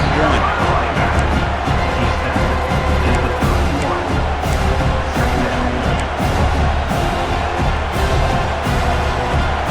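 College football stadium crowd at Georgia versus Tennessee, a loud, sustained roar of cheering that fills the whole stretch, with a commentator talking over it.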